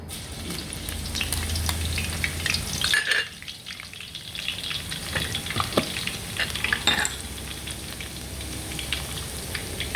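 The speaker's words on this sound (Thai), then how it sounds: "น้ำมันเริ่มร้อนเราใส่กระเทียมลงไปค่ะ" Garlic hisses and crackles as it drops into hot oil over medium-high heat, a steady, close, loud sizzle that briefly thins around the third second before surging back, with no voices.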